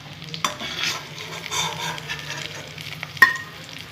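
Shrimp (chingri) pakoda fritters frying in a pan, a soft steady sizzle under gentle stirring, punctuated by two sharp utensil knocks against the pan.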